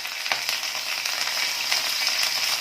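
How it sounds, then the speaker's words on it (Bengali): Curry leaves dropped into well-heated oil with whole cumin, sizzling in a dense, steady crackle with a few sharper pops, close and continuous for a coconut chicken curry. "তেলটা ভালো করে গরম হয়ে গেছে, এবার আমি একটু কারি পাতা দিয়ে দিলাম।"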